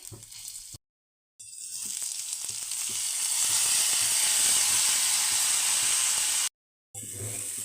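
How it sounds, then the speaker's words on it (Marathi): Washed moong dal roasting in ghee in a pan for halwa, a loud, hissing sizzle that swells and holds steady, with light stirring scrapes and two brief cuts to silence. "आता ही डाळ आपल्याला मस्त अशी मंद आचेवरती गोल्डन ब्राऊन रंग येईपर्यंत चांगली भाजून घ्यायची आहे"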